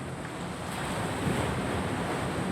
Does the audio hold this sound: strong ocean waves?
yes